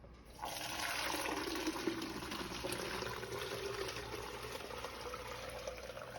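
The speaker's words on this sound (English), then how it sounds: "we're going to strain it one time into the pitcher" Homemade chicken stock is strained and poured into a pitcher, starting after a brief quiet moment with a sudden gush that settles into a steady, close splashing stream.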